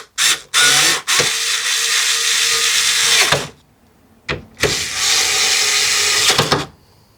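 A Phillips screwdriver driving in the bolts that hold a sensor on a Toyota Tacoma during a grille swap: short whirring bursts, then two long, steady mechanical runs separated by a pause, close and fairly loud.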